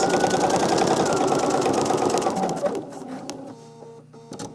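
Sewing machine running steadily as it stitches a row through quilt strips during machine quilting, a dense continuous whir for over two seconds that then slows and stops, leaving quieter mechanical clicks.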